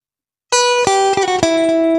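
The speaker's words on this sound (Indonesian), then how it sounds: "Ini suara cleannya terlalu besar." After a moment of silence, clean electric guitar notes ring out through a Zoom G1X Four effects unit, with several plucked attacks sustaining and overlapping, bright and clear.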